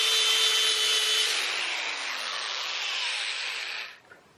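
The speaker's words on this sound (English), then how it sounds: "Die grinder" Die grinder working a homemade metal sword blade, a loud continuous high grinding whine that holds steady for several seconds, then winds down and stops.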